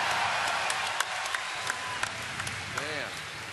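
A live BlizzCon 2010 crowd claps and cheers as a boss falls in a World of Warcraft Cataclysm raid, the steady applause sitting beneath loud commentator talk.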